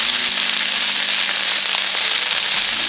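Beef sautéing in a hot pan for beef and broccoli, crackling and sizzling loudly and continuously at close range, with no voices over it.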